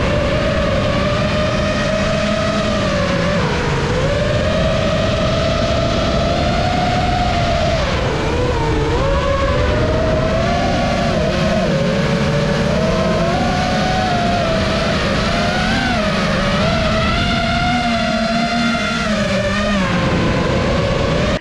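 A homemade model airplane engine, built and flown in Malappuram, runs continuously at a high, buzzing whine, its pitch wavering up and down as it revs, loud and steady throughout with no talking.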